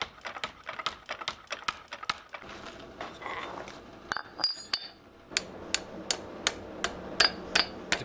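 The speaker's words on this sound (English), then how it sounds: "When forging pipe, whether it's underneath a power hammer or by hand on an anvil, it's very important to rotate it evenly" A hand hammer forges steel pipe on an anvil for a sword handle, sounding as a steady series of sharp, ringing metallic blows close by, with a short stretch of scraping and shuffling between the strikes.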